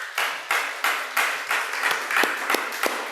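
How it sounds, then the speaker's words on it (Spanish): A church congregation clapping during a worship service, with about a dozen sharp, evenly spaced claps in a steady rhythm, close and moderately loud. "Fuerte aplauso."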